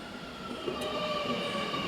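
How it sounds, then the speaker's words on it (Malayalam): A metro train rumbles and whines as it approaches a station, distant and fairly faint, with a steady drone. "ട്രെയിൻ അങ്ങ് ദൂരെ വരുന്നുണ്ട് കേട്ടോ"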